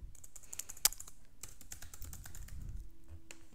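A computer keyboard clatters as a password is typed during a Bitcoin wallet setup, with a quick run of close, crisp keystrokes and one sharper loud tap near the start.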